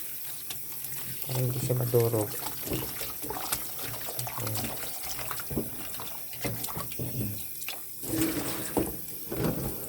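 Cold tap water runs into a sink while spinach is washed, a faint trickle and splashing under a person talking throughout, with brief handling noises.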